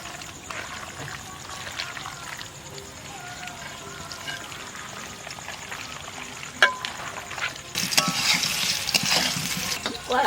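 Chicken masala is stirred and fried in a wok, giving a steady bed of scraping and sizzling with a louder, brighter burst of frying toward the end.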